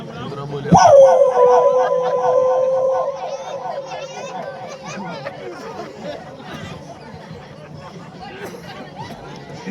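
Dogs break into a loud, close howl with wavering, yipping barks that trail off over several seconds, while people chatter in the background.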